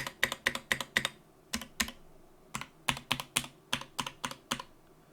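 Keys clack on a modified Sam S80 mechanical keyboard with a frosted polycarbonate bottom, crisp close-up strokes in quick bursts and short pauses, each press sharp and distinct, no voices.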